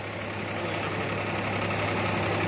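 A tractor-driven wheat thresher runs steadily at close range with a continuous mechanical drone and a low hum throughout. There is no talk.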